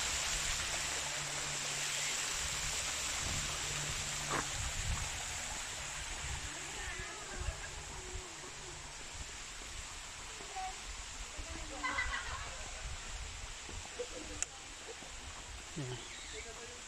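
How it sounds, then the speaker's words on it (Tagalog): Natural mountain stream water from higher ground flows steadily near the Ain village in Al Baha, a continuous broad rushing wash with faint bird calls and scattered nearby voices over it. "This water is natural. This water, natural. From the mountain."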